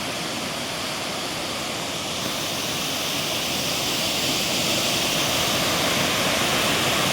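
Water pouring down the Kuttalam waterfall, a loud, steady broadband roar that fills the whole stretch and swells slightly toward the end, with no voices.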